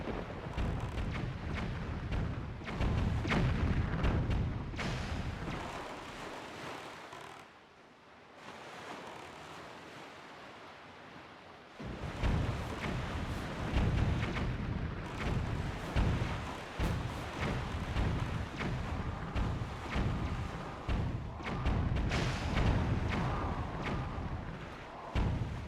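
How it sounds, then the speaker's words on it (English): Cannon fire on the open sea in The Legend of Zelda: The Wind Waker, heavy booming blasts repeating in bursts over a steady roar of waves and wind, with a brief quieter lull partway through. "Oh, there's cannons here."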